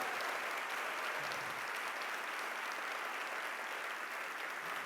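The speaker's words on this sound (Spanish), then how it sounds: "fuerte aplauso al Rey de Reyes." A church congregation at a First Fruits celebration service applauds steadily, a continuous wash of many hands clapping at moderate distance throughout.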